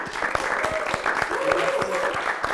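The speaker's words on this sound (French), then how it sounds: "Oui, vous pouvez applaudir pour vous." Audience at a francophone club event applauding, a steady wash of hand claps with a few voices talking over it throughout.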